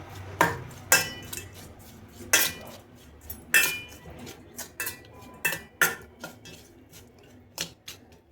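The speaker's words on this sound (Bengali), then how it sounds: "আমি একটা চামচ দিয়ে নুন আর হলুদটা মাখিয়ে নেব।" A metal spoon mixes salt and turmeric into small morola fish in a bowl, giving sharp, irregular clinks and scrapes against the dish, close and clear, with soft rustling between the strikes and no talking.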